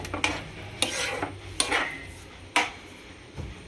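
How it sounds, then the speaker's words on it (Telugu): Spoon slowly stirring a dried fish tomato curry in a pan, giving four or five distinct scraping clinks spaced about a second apart over a soft cooking hiss. Close and clear, with no talk. "ఇలా స్లోగా కలబెట్టుకోవాలి"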